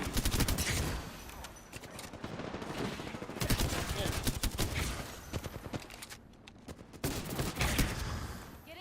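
Bursts of automatic gunfire in a video game battle royale, rapid volleys rising and easing with brief lulls between them, with indistinct voices faintly underneath.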